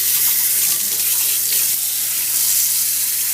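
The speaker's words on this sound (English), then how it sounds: "I rinse with cold water" Cold tap water runs steadily over coffee-dyed Aida cloth being rinsed in a sink, a constant close hiss of flowing water with no voices.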